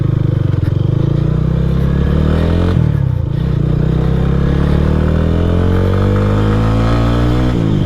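A modified Lifan KPR 165 motorcycle fitted with a dB killer pulls away at the start of a ride, its engine loud and close, revving and rising through the gears with some clatter along the way.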